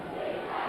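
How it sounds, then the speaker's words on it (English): Dense, steady roar of a large crowd filling an arena at a 1999 boys' basketball state championship game, cheering loudly and continuously without pause. "Just an incredible crowd"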